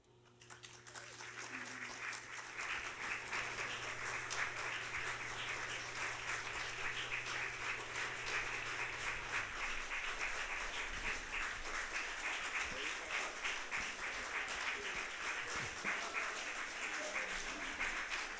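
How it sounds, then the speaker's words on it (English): An audience applauds after a readers' theatre performance of a matchmaking play, sustained, even clapping from a moderately sized crowd heard from a distance, with a low hum fading out partway. "Give them a great big round of applause"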